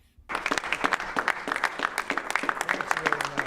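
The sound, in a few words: audience applauding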